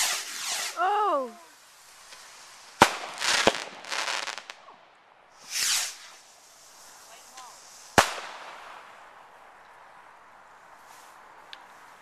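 Fireworks rockets bursting at a home display, with several sharp cracking bangs and whooshing bursts spread over the clip, some close and loud, with a faint voice in between.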